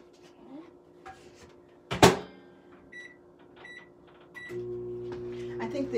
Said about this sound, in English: I'm going to put it in the microwave for about 15 seconds